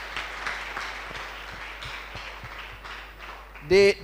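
Audience applause at an alumni homecoming seminar, a thin, fairly distant patter of clapping that runs steadily before a sudden loud electronic tone cuts in at the end.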